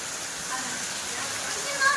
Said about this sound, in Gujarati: જો વરસાદ કેવો સરસ આવે છે